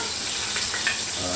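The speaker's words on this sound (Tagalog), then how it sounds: "habang okay na po yung bawang, medyo mapula-pula na, dali natin itong itong sibuyas" Garlic and onion frying in a pan for Filipino sinigang, with a steady, dense hiss of sizzling oil at close range.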